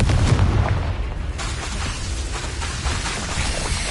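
A Confringo explosive spell blast in Hogwarts Legacy, a loud booming burst that rolls into a dense, sustained roar of debris and rumble, filling the whole few seconds.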